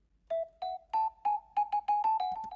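Dry Signal by Output synth patch with all effects removed, a string of short plucked, pitched notes in a quickening rhythm, close and clean with nothing else present.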